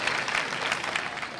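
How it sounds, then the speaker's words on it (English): Audience applause fills a graduation ceremony hall, a steady, dense wash of many hands clapping at moderate distance without pause. "Give her a round of applause, please."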